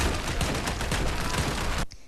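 Dense gunfire in the video game Army of Two, a loud rapid fusillade of overlapping shots that cuts off abruptly near the end.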